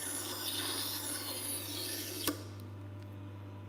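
Kitchen knife sharpened at a 17-degree angle on a Tormek T-2 Pro, a steady close grinding rasp lasting a little over two seconds, then a sharp tick before it stops, leaving a low hum.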